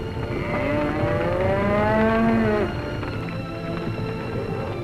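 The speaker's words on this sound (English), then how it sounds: "Cowboys round up their cattle." Cattle moo during a roundup on the open western prairie near the Rocky Mountains, a long drawn-out bellow over a steady background of herd noise and rumble.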